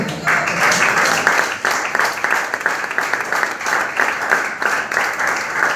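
Church congregation at a Spanish-language sermon applauds, loud dense clapping with sharp individual claps standing out, continuing steadily for several seconds with some murmur underneath.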